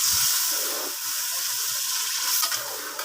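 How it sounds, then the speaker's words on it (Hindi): Chopped tomatoes and spices for aloo methi sizzle and hiss steadily in a hot pan while being sautéed, a constant bright frying crackle with faint stirring underneath. "अब हम इसकी अच्छे से मज़ीद और भुनाई करेंगे।"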